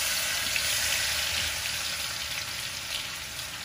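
Garlic dropped into hot oil already used for frying paneer gives a steady, bright sizzle and crackle close by, holding at an even level throughout.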